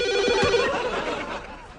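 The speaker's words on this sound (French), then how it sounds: "Téléphone, je le prends." A telephone rings indoors in a cartoon family home, a bright repeating electronic trill heard close and clear with faint background activity.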